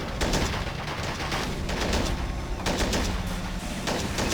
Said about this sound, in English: So my tank does manage to gun down a lot of those guys